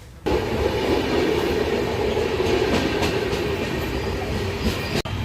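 An express train from Visakhapatnam to Machilipatnam rolls steadily along the rails with a loud, continuous rumble and faint rhythmic clatter, then a brief dropout near the end.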